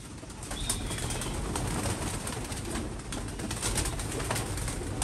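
Pigeons with their wings tied being released, giving near, steady bird sounds with soft cooing and bursts of flapping wings over outdoor background noise, with no talking.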